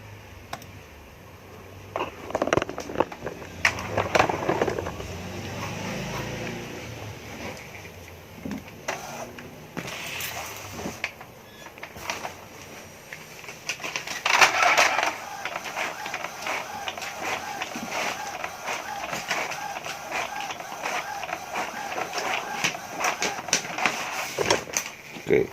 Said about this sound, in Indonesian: Tinggal cetak saja.